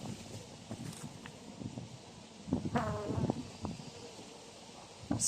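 Honey bees buzzing around an open hive on a windy day while frames are handled, a faint insect hum mixed with brief rustles and handling knocks.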